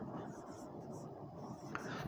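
A pen writes a sentence by hand, a soft, continuous scratching close by with a faint voice underneath.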